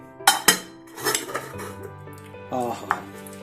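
Steamed egg cake being lifted out of its dish onto a plate, with a few sharp clinks of metal and ceramic, a scrape and some quieter handling, close and fairly sparse.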